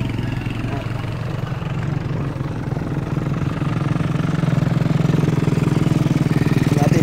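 Isuzu Crosswind XT diesel engine idling steadily with a low, rumbling drone at close range, kept in well-maintained condition and recorded under faint background voices.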